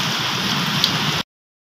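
Heavy rain pours down during a hailstorm in Punjab, a dense, loud, steady hiss of drops hitting surfaces that cuts off abruptly after about a second.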